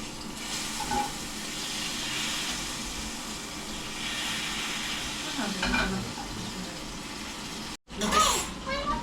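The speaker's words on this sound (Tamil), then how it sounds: "மீன் நல்லா பொறிஞ்சு விடுறது" Fish fries in a pan for a traditional fish curry, a loud, continuous close sizzle with occasional stirring scrapes and utensil clinks, while people talk over it and a brief silent cut interrupts near the end.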